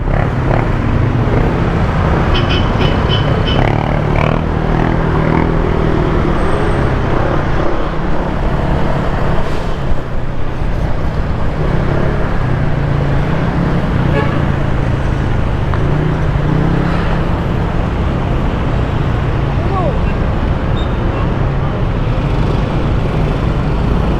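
Constant street traffic in Manila, with cars, buses and motorcycles rumbling close by in a dense wash of engine noise that continues without a break.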